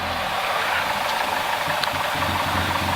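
A light aircraft engine idles before takeoff from Barton, a steady, loud, close drone with a low knocking pulse and no talk over it.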